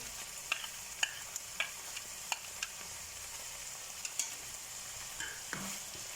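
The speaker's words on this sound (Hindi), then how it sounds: "एक मिनट के लिए वेजिस डाल के हम इसे फिर सौते करेंगे।" Chicken and bell peppers sautéing in a pan, a steady soft sizzle with a series of light scrapes and taps from stirring scattered throughout, fairly close and quiet, no voices.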